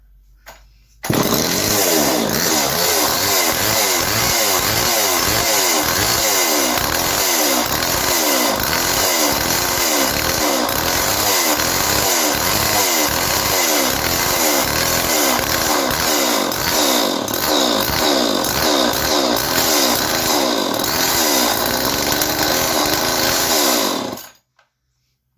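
A restored 1970s Homelite XL chainsaw starts up and runs loud and close, its two-stroke engine revving and pulsing rhythmically for over twenty seconds before cutting off abruptly.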